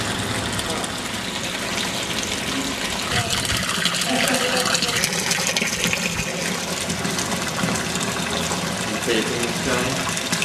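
Spring water gushes steadily through a filter bed, a dense continuous rush of flowing water with some mechanical hum underneath, close and fairly loud throughout.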